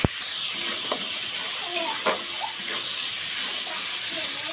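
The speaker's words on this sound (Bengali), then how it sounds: "তো ছোলাটাকে প্রথমে আমি ভালো করে ভেজে নিচ্ছি।" Chickpeas frying in a pan for ghugni, a steady close sizzle of hot oil with a constant hissing wash and occasional small pops, running without pause throughout.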